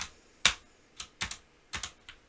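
Close, crisp clacks of typing on a SteelSeries Apex 7 mechanical keyboard with a somewhat hollow spacebar: about seven keystrokes in uneven pairs and singles, one striking louder than the rest.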